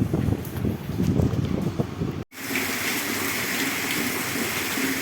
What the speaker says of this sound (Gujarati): વરસાદ ઝીણો ઝીણો ચાલુ છે.